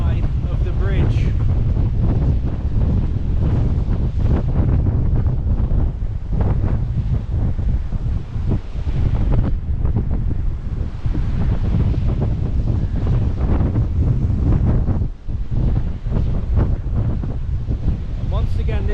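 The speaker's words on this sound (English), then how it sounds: "And it's very windy on this side of the bridge." Strong gusts of wind buffet the microphone by a flooding river at Bridge of Dun in Scotland during Storm Babet, a loud continuous roar with rushing water beneath and no voices.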